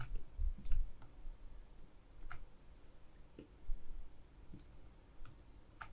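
A computer mouse clicks sharply and sparsely, with about a dozen light, close clicks at irregular intervals over a faint background hiss.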